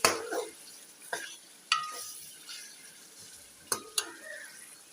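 Chicken and chopped onion frying in a pan, with intermittent scraping stirs and clinks of a utensil over a quiet, low sizzle; a few sharp transients stand out close by.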